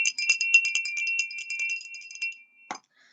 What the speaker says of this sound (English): Let me just do the bell.